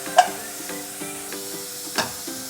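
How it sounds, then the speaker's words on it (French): A knob of butter melting over gentle heat in a wok gives a soft, steady sizzle with faint stirring scrapes and a few small clicks, heard alone and close. "Dans un wok, je vais faire fondre une noix de beurre"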